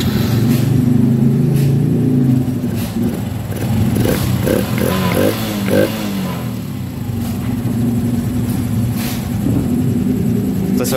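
A Honda Revo Fi motorcycle, just repaired for a noisy engine and loss of power, runs on a test ride with a steady close engine drone and some rising revs.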